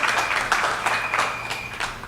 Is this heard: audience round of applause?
yes